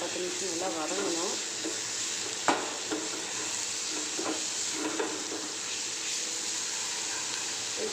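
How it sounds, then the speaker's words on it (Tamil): Ginger garlic paste frying in a pan, a continuous close sizzle with occasional scrape and knock of a spoon stirring, and a voice speaking briefly over it near the start. "1 ஸ்பூன் இஞ்சி பூண்டு பேஸ்ட்டு. இது நல்லா ஒரு 10 நிமிஷம் நல்லா வதங்கணும்."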